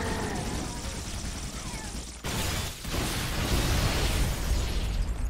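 Explosions in the video game Halo, a loud rumbling burst of blasts and booms that dies briefly and then swells into sustained roaring noise.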